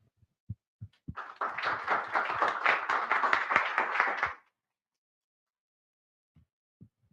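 Audience at a GPU programming workshop during a modular hack weekend claps for two presenters: a few isolated claps, then a solid three-second burst of applause that cuts off abruptly, followed by quiet with a couple of stray taps.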